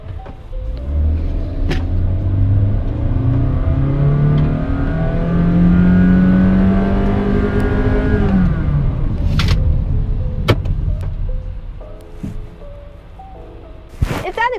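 A Honda BR-V seven-seater accelerates, its engine rising in pitch through the revs, then easing off before a gear change, with a loud, close interior rumble and a few sharp clicks near the end.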